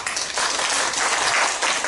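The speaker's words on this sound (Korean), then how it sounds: "박수 한번 보내주세요" Audience applause at a poetry recital event in a lifelong education centre, a steady dense burst of clapping from a crowd, close and fairly loud, alone without talk.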